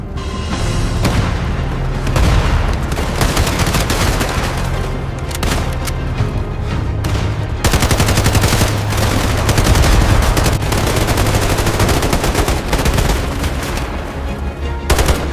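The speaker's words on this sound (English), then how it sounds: "Return fire, now! Eliminate the threat." Sustained bursts of automatic gunfire and booming shots in a soldier drama's firefight, loud and dense throughout with brief lulls, no talking.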